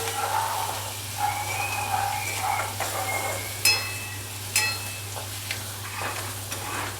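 Spices fry with onion and ginger-garlic paste in a pan, sizzling steadily while a utensil stirs and scrapes with occasional sharper clinks.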